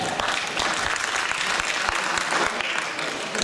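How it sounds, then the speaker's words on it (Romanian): Brisk applause from a gathered audience at a 45-year graduation anniversary reunion, dense and steady clapping filling the short moment with no talking. "Și să le aplaudăm și pe cele care ne-au însoțit"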